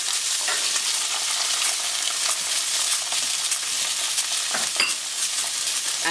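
Shallots sizzle and fry steadily in a pan for a Bercy sauce to go with grilled T-bone steak, a dense continuous crackle with occasional utensil scrapes and no talking.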